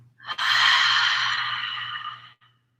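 A slow, deep exhale during yoga breathing, a close and breathy rush of air lasting about two seconds that trails off softly, with a faint low hum underneath.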